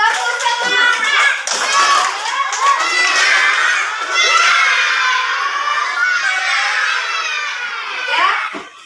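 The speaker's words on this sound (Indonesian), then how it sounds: "ayo tepuk semangat" A classroom of children performs tepuk semangat, a rhythmic clapping cheer, clapping in patterned beats while chanting and shouting together loudly at close range.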